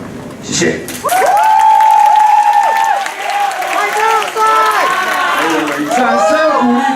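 Loud audience applause and cheering break out after a singing performance at a talent contest, with a host's voice carrying over the clapping.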